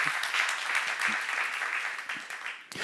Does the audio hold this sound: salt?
no